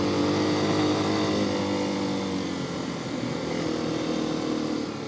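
A Honda XR250 dirt bike engine drones steadily while riding through woods, a loud, continuous close-up roar with a slight dip in pitch midway, alone without talk.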